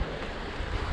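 Ocean waves wash and rush around a sailing boat at sea, a broad steady roar mixed with wind buffeting the microphone, with no voices.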